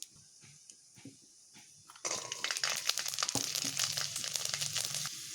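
Garlic cloves drop into hot oil in a pan and burst into a loud, steady sizzle after a quieter start with light clatter, continuing close up without talk.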